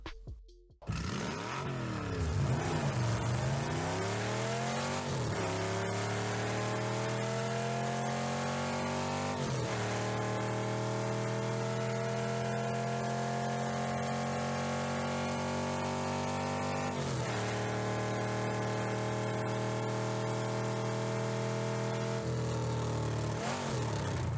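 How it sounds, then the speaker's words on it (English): The 2022 Batmobile in Rocket League revs through an engine demo, a loud continuous synthetic engine tone that climbs in pitch, drops and climbs again in several repeated acceleration sweeps. "Here's a full demo of the engine audio."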